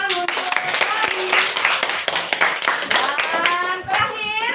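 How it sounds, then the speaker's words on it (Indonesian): A class of sixth-grade primary school children claps together in their classroom, a loud, close burst of hand claps mixed with children's voices and chatter throughout. "Kasih tepuk tangan untuk kami."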